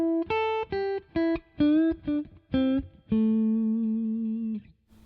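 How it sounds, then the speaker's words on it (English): Electric guitar playing a basic blues lick of short plucked notes in a quick phrase, resolving onto a long sustained root note that rings and fades, clear and close with no talking. "So here's a basic blues lick where you resolve it onto the 1."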